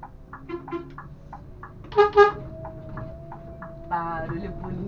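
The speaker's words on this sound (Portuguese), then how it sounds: "Barulho bonito desses carros, né?" Buses and cars at the Tietê bus terminal: a low engine hum with a pair of short horn toots midway and another honk near the end, mixed with a sustained tone and nearby voices.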